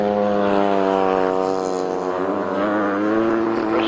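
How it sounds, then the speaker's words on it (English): A grasstrack racing motorcycle engine is wound up hard, a loud sustained high rev that holds steady and rises slightly toward the end, with no pauses. "Charlie Brooks got the motor wound up nicely. You can hear it revving"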